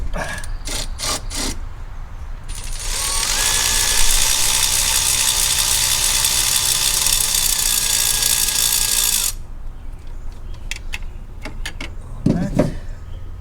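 Ratchet undoing a starter bolt on a 987 Porsche Boxster S 3.2L, a steady buzzing run of fast clicks lasting several seconds, close and loud, framed by a few sharp metallic knocks before and after.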